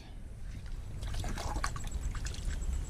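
Water trickles and splashes over an old glass bottle dug from the ground as it is rinsed, a steady close running-water sound with no talk.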